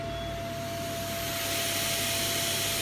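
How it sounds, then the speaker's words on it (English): The vacuum hold-down of an Esko Kongsberg cutting table switches on and settles into a steady, loud broadband rushing roar with a constant whining tone, swelling slightly partway through and running alone without talk. "Let me also switch on the vacuum."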